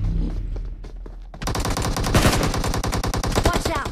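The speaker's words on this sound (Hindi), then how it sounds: "ये कहां फायर हुआ है" Rapid automatic gunfire in the mobile battle-royale game BGMI (PUBG Mobile), a loud close burst starting after a brief lull and continuing in dense repeated shots.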